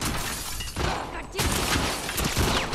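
Gunfire and shattering impacts during a firefight in The Last of Us Part 2, loud bursts spread across the moment with crashing, breaking textures and a player talking over parts of it.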